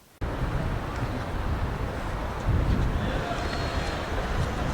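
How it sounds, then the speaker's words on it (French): Strong wind buffets an outdoor microphone fitted with a foam windscreen, a steady, loud low rumble that surges slightly midway and runs without a break to the end. "Les gars, il y a un tas de vent."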